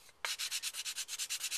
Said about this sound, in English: you'll want to take a sanding block, get a nice smooth finish